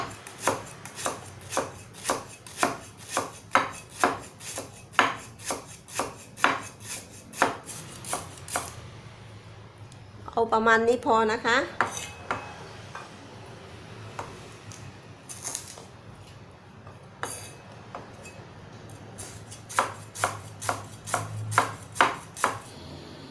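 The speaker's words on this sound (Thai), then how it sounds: "แล้วเราก็มาหั่นกันเลยนะคะ สไลด์บางๆนะคะ" A knife thinly slices ingredients on a cutting board for stir-fried pork ribs with lemongrass, giving a steady run of close, crisp chops that pause briefly while someone speaks before the chopping resumes.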